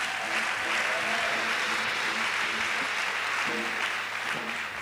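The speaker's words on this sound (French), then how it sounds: "Acclamons le Seigneur Jésus." Church congregation clapping and cheering in praise, a dense continuous wash of applause with rhythmic clapping throughout, fairly loud and steady, no clear speech.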